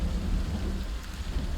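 Steady rain with a deep rumble of thunder in a video game, a continuous broadband wash of rainfall over low rolling thunder, with no voices present.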